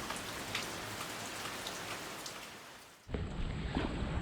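Heavy, continuous monsoon rain pours down steadily in Devgad, a dense hiss that shifts near the end to a closer, louder downpour drumming on a nearby surface.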